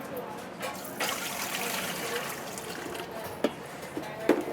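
Cold tap water poured into a container for Napoli-style pizza dough, a soft continuous trickle and splash at low level, with a few small knocks near the end.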